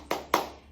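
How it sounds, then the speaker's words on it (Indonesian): Two sharp hand claps in a classroom, spaced a fraction of a second apart, close and crisp with a short fade after each. "tepuk tangan untuk Ninda dan Dwi"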